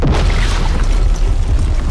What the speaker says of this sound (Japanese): ウェイドの花火だ。